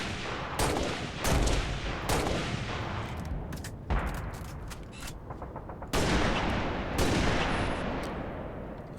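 Heavy rifle shots in Halo: Reach, several loud booming reports spaced a second or two apart, each trailing off in a long echoing decay, with no voices.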